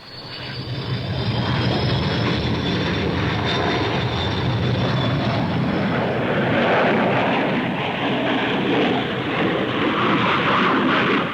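An RAAF Canberra jet aircraft blasts onlookers from its tail end with a loud, continuous, close roar and a high whine that slowly drops in pitch.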